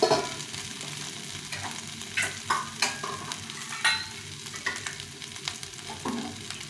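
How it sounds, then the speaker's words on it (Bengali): Water hits a sautéed vegetarian curry in a pan with a busy sizzle, punctuated by repeated spoon scrapes and stirring clatter at an irregular pace, close and fairly loud throughout. "এখন এর মধ্যে জল দিয়ে দেবো"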